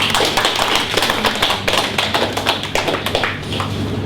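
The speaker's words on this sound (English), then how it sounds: "we should all give Pauline and Roger a big round of applause" A community gathering gives a sustained round of applause. Many hands clap loudly and densely at close range with a steady, fluttering texture, and no talking is heard over it.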